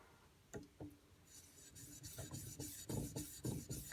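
A steel knife blade is sharpened on Suehiro whetstones. Faint, rhythmic gritty scraping strokes build and come quicker as the blade rasps back and forth across the wet abrasive.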